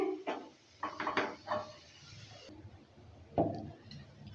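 A cooking pot holding boiled pointed gourd, its water cooked away, is lifted off a gas stove with a few close metallic clanks and knocks, then a single sharper clatter after a pause.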